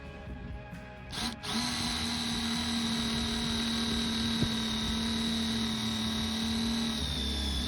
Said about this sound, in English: The plastic was eating drill bits just as quickly as the day before